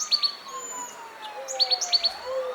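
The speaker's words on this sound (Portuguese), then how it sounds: "o coro de pássaros cantando suas canções de acasalamento tão cedo na primavera." Several songbirds chirp and trill in short, bright bursts across the clip, heard fairly close over a quiet urban background, with no talking.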